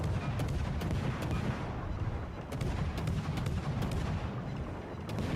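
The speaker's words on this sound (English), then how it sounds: "as you can see with the Akizuki, it really is pew pew pew pew. Got a very high rate of fire." Rapid, dense gunfire from the Akizuki destroyer in the naval video game World of Warships: Legends, with sharp shots firing at a very high rate over a steady booming battle din.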